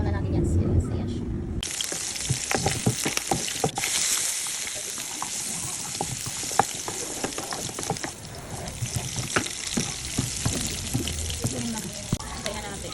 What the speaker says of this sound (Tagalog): i-drain muna natin para matanggal yung water